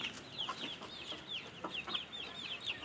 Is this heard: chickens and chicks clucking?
yes